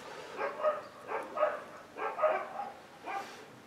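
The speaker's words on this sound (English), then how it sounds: "Dogs are kicking off." Dogs bark in short repeated bursts, about seven yaps in uneven clusters, moderately distant and fairly quiet with no one speaking.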